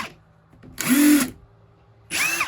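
A Ryobi cordless drill-driver motor whirs up in two short bursts, spinning up and winding down, close and loud with a quiet pause between.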